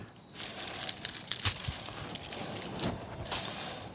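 A freshly harvested onion has dirt brushed off and its roots trimmed, with close, dry crinkling and tearing of papery skin and several sharp crunchy snips over a few seconds.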